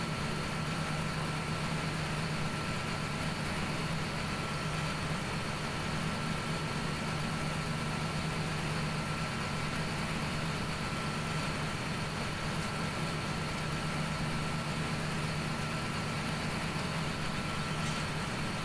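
A tractor engine in Farming Simulator 17 drones steadily while pulling a large Kuhn DLC row-crop seeder, a continuous low hum with a faint tonal whine, slightly labouring, with no talk over it.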